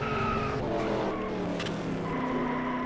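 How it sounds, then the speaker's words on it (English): Stock race cars at Daytona in a racing video game, tires skidding and squealing through a wreck with engines droning close and loud throughout the short burst. "And we already got a wreck."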